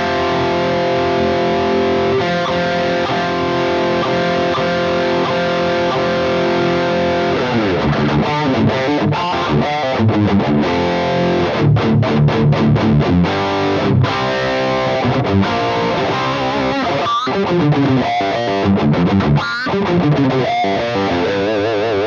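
An electric guitar plays through a REVV G3/G4 amp-in-a-box distortion pedal into a Mooer X2 cab sim, giving a driven, saturated tone. Sustained chords come first, then tight palm-muted chugging riffs, loud and up close.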